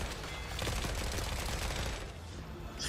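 Unsilenced gunfire in The Forever Winter, a dense, continuous rattle of shots and loud combat noise filling the full three seconds, with no pauses.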